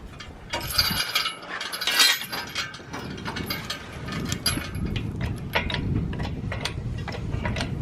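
A jack is pumped to lift heavy stones, heard as a close, steady run of mechanical ratcheting clicks and creaks, loud and continuous with brief irregular knocks early on.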